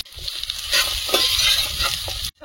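Soybean chunks being fried and stirred with potatoes in a pan for a vegetarian dish, a steady close sizzle with scraping stirs throughout, alone without talk.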